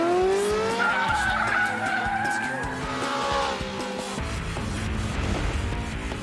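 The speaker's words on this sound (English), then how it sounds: "Even Kazunori in the awesome Mitsubishi Evo 8 with permanent four-wheel drive finds a slalom can catch him out" Mitsubishi Evo 8 with permanent four-wheel drive skidding through a slalom in Gran Turismo 4, tires squealing in long rising and falling sweeps over a steady engine drone, loud and close, easing into rougher tire scrub toward the end.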